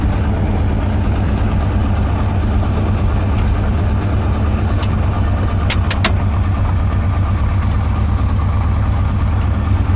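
A long-abandoned 1972 Corvette runs on the road, its engine giving a loud, steady low rumble without pause, close and unaccompanied by talk.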